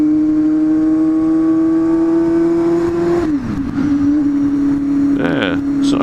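A 1998 Honda CB250F Hornet 250 motorcycle engine holds a loud, steady droning hum close by. Partway through, the pitch briefly drops with a rough wobble and then settles back to a steady note, with faint rhythmic fluttering near the end.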